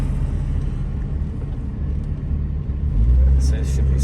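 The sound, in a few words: Chevrolet Cavalier engine while driving, shifting gears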